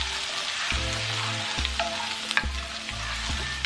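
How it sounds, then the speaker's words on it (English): Garlic and green onion stir-frying in cooking oil in a pan for Korean-Chinese jjajangmyeon: a steady close sizzle with spatula scrapes and stirring knocks, over faint steady low tones in the background. "add garlic and green onion and stir fry for 30 seconds until it's fragrant"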